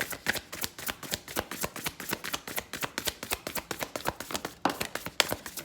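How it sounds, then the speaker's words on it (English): Tarot cards being shuffled by hand, a quick regular run of crisp riffling taps and slaps, close and fairly quiet, with no talking. "Let's pull some more cards."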